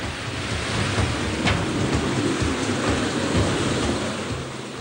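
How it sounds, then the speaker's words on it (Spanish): Water from the Gihon spring rushes steadily through an underground tunnel beneath Jerusalem, a dense, close hiss and roar with no talking. "Oigo el agua."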